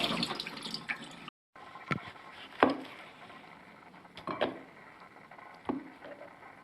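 Water splashes and sloshes in short bursts while dirt is washed off a chicken of the woods mushroom. Several distinct close splashes are spaced a second or so apart over a quiet background.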